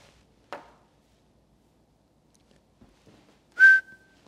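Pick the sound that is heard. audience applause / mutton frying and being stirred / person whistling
person whistling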